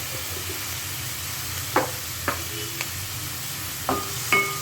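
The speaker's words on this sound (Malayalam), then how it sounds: "ഉപ്പിട്ട് നന്നായിട്ട് അത് യോജിപ്പിക്കുക." Salted cabbage mixture for fried rice sizzles in a pan as a spoon stirs it, giving a handful of distinct scrapes and knocks over a soft, constant frying hiss.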